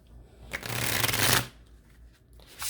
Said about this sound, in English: I think these are going to shuffle really nicely.